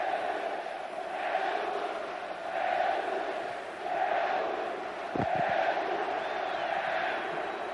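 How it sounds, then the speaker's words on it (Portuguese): Corinthians supporters in a packed stadium chant a substitute's name, Edu, at a 2000 Campeonato Paulista match against Santos, a steady rhythmic crowd roar swelling and ebbing in repeated waves with a brief thump near the end. "a torcida do Corinthians diz que não precisa mais do Rincon, começa a gritar Edu, Edu, Edu"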